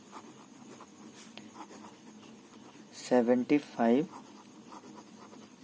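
Numbers are written by hand on paper, faint scratchy pen strokes heard over quiet room noise, with a short burst of a man's speech cutting in partway through.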